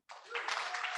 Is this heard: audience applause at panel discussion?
yes